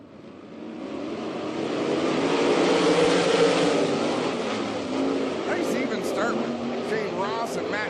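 360 sprint cars race on a dirt track, their engines roaring as the pack swells past loudly and fades slightly, with an announcer talking over the noise throughout.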